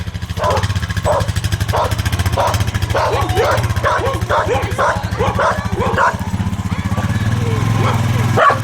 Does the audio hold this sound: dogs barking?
yes